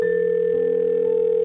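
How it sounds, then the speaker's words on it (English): A telephone tone plays as a steady, clean electronic hum with a fixed pitch, continuous and close, with no voices. "The phone rang."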